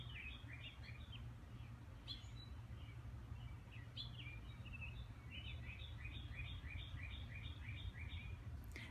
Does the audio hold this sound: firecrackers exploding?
no